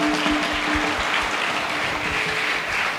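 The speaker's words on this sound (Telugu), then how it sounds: "అయితే గట్టిగా ఒకసారి చప్పట్లు." An audience at an awareness meeting claps loudly together, a dense, continuous burst of applause that fills the whole moment.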